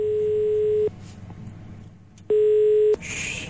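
A telephone line sounds steady electronic tones during an Italian radio call, with two sustained beeps separated by a quiet gap. The tones stand alone, and no voices are heard.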